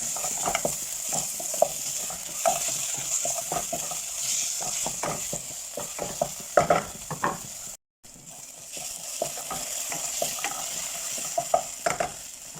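Dried lemon, chicken cubes and tomato paste sautéing in a pot, with a steady close sizzle and repeated scraping stirs throughout, plus a brief dropout near the middle.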